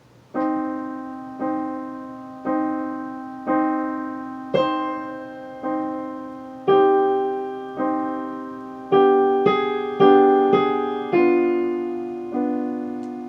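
A keyboard plays the first line of Khachaturian's Andantino, a slow series of about a dozen sustained chords, each struck cleanly and left to ring, with a brief melodic rise near the end and no talking.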